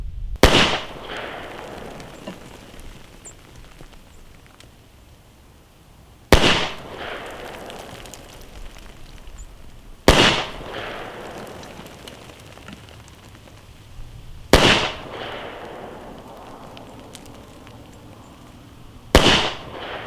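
A handgun fitted with a reflex optic is fired from a benchrest, with five sharp, loud single shots spaced several seconds apart, each trailing off into a decaying outdoor echo.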